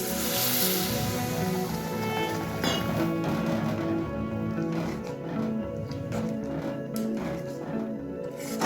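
Boiling water poured into fried masala in a pan for a fish-head korma: a rushing, bubbling hiss that is loud and continuous at first, then settles into sputtering and crackling, close, with no clear talking.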